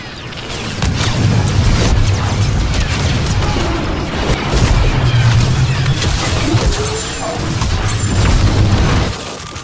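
Heavy booming cannon fire thunders repeatedly in a dense, continuous barrage in a Star Wars video game, with crashes and blasts layered over one another at close range.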